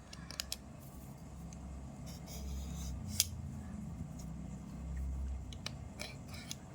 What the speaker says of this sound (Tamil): தோலை நம்ம சீவி எடுத்துடலாம்